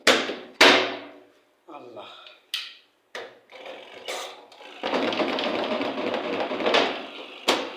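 A personal washing machine loaded with a blanket and pants knocks and thumps through its cycle, with irregular loud bangs early on giving way to a steady, rumbling churn punctuated by further knocks.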